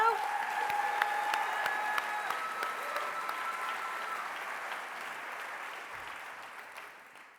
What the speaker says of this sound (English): A round of applause for these two.